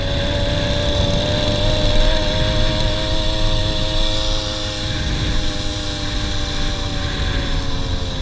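A motorized bicycle's small engine runs at full throttle while faltering, giving a continuous buzzing drone with steady harmonic whine, loud and close, without talk.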